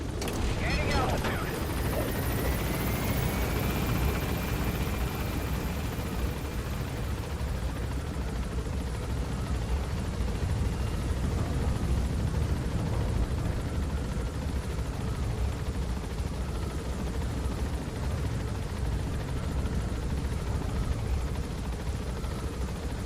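A helicopter in Metal Gear Solid V: The Phantom Pain climbs as it gains altitude. Its heavy rotor and engine roar stays loud and continuous the whole time, filling the sound with a steady broadband wash.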